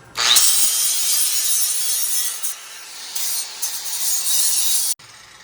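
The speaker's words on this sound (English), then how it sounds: "Grind it down a little bit." Steel tubing, 1.25 inch, from the bottom frame of a compact motion simulator, ground down with a steady, loud, rasping hiss that runs for about five seconds and then cuts off abruptly.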